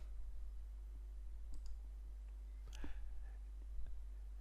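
A few faint computer mouse clicks sound sparsely against a quiet background, including one sharper, more noticeable click near the middle.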